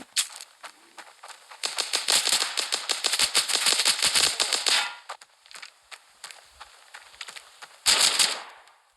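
Rapid bursts of automatic gunfire from the mobile shooter Standoff 2, a dense rattling volley of sharp cracks followed by scattered single shots and one more short burst near the end, no speech over it.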